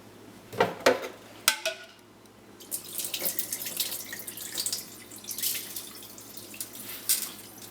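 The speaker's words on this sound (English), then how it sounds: "grab your strainer and drain all of the water out from the rice" Water drains from washed sushi rice through a strainer into a sink: a few sharp knocks, then a steady splashing, trickling pour that rises and falls for several seconds.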